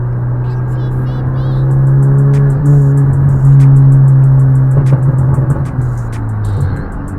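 A car engine held at about three-quarter throttle drones loudly and steadily throughout, a constant close engine note with a slight dip near the end.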